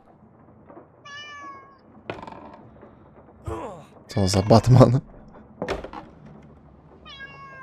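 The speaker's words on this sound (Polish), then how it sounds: "Gdzie ten kot jest?" Game cat meows a few times from the horror adventure game Rosemary's Fate, short tonal calls near the start and end, with someone talking over the game's creaks, thuds and ambient sounds.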